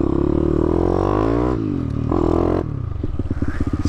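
A YCF 190 Daytona supermoto motorcycle accelerating toward top speed, its engine note rising through the gears with brief dips at the shifts, loud and close with wind and clatter.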